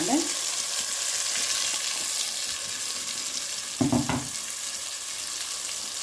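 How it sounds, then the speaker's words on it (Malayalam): Loud, steady sizzling of ground masala paste frying in a hot pan for a fish and onion curry, with a brief stirring clatter near the end. "അപ്പം ഞാനിപ്പോൾ ഈ അരപ്പെല്ലാം ഇതിനകത്തേക്ക് ഇടുകയാണേ"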